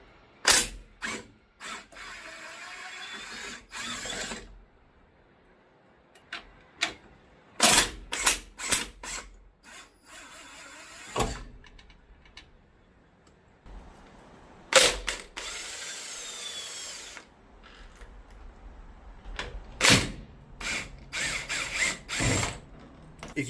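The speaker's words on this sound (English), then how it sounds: "on the back side, I think I want to take this bolt off" A bolt is removed from the engine mount of a Honda K20Z3 engine with a ratchet wrench, giving repeated close bursts of clicking ratchet strokes separated by quiet pauses.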